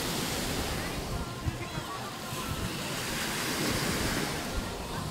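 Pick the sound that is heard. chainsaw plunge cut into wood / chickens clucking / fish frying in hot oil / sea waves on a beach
sea waves on a beach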